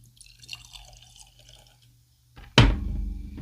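Bunnahabhain Stiuireadair single malt Scotch whisky poured from a dark bottle into a glass: a sharp clink as the pour begins, then a steady close liquid trickle running for about a second after a quiet lead-in.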